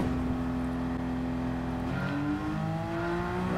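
Porsche Cup race car engine from Gran Turismo 7, droning steadily at high revs with shifting tonal whine as it comes out of a corner, loud and continuous with no talking.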